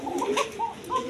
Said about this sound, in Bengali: অরিজিনাল পাশিরাজ কোকা চিকুন গলায় ডাকতেছে।